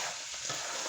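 Quick stirring of teriyaki-style food in a hot cooking pan, a short burst of scraping and sizzling with a faint clatter in the middle, up close and alone.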